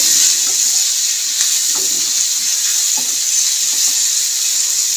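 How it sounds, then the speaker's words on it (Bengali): Chopped tomato and boiled drumstick stalks stir-fried in oil, a loud, even sizzle with soft intermittent knocks and scrapes of stirring, with no one talking. "দিয়ে নেড়ে চেড়ে আবার একটুখানি ভেজে নেবো তেলের মধ্যে"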